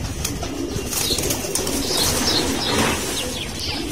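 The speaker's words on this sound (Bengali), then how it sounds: "কবুতরগুলো সব পানি খাচ্ছে তৃপ্তি সহকারে।" Pigeons drink water and flap their wings nearby on a windy day, with soft bursts of wingbeats and faint chirps over steady breezy noise.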